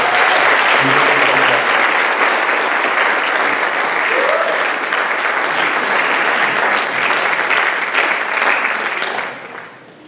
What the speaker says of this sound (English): So please give a warm round of applause for these incredible people.